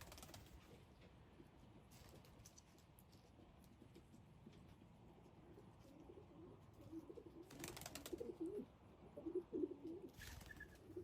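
Soft, low cooing of pigeons or doves in a quiet space, with a few brief rustling bursts and faint clip-clop taps near the end.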